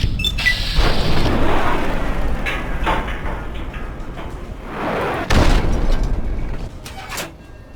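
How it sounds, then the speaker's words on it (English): Missile explosion in the video game Fallout (Tale of Two Wastelands) during a swamp fight, a loud booming blast followed by a second sharp burst and rumbling debris, with no talk over it. "That thing took a missile like a champ."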